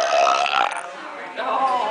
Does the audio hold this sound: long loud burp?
yes